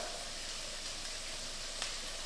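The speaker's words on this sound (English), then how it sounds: "I'm just gonna like fry it up like you would fry eggs" Shrimp fry in a pan over medium heat with a steady, soft sizzle and crackle, one brief pop near the end, and no talking.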